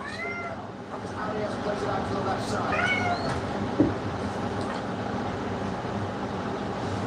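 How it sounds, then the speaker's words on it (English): A cat meows several times, in short rising calls set against a low background hum, while a person talks over part of it. "We've got cat hide and seek happening in this very moment."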